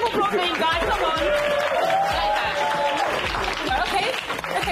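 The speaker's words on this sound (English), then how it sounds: "Round of applause, guys. Come on." Studio audience on a Nigerian dating reality show breaks into a steady round of applause and cheering, dense clapping filling the room at moderate loudness with some voices mixed in.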